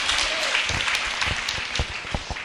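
A church congregation claps together in a dense, steady burst of many hands, fairly close and filling the room, with no talk over it.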